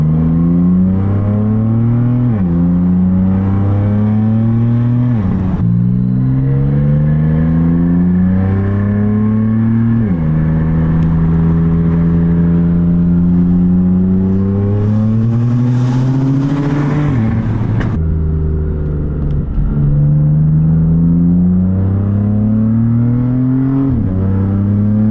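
A BMW F80 M3 fitted with an Active Autowerke Maad Maxx exhaust, catless downpipes and a single mid-pipe accelerates hard through several gear pulls, its loud rasping engine note climbing and dropping at each shift, close and continuous.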